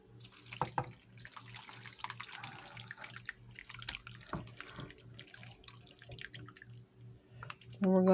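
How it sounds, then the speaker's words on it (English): Broth poured into a pot of canned peas and carrots with chopped baked potatoes, a liquid splashing and trickling under a low steady hum, ending in a louder rush. "And we are going to add our broth to that."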